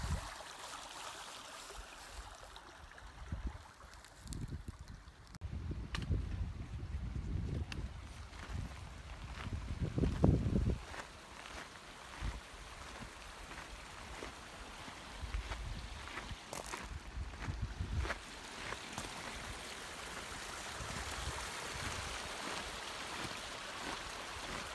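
Small creek in Plumas forest flowing with a soft, continuous trickle and burble, faint and steady, broken by a few louder low rumbles of wind buffeting the microphone; no one speaks.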